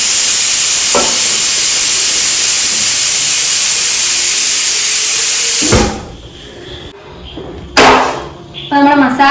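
Chicken biryani masala boils in a pot, a loud, steady, close hissing bubble that runs unbroken for about six seconds before dropping away into quieter kitchen clatter.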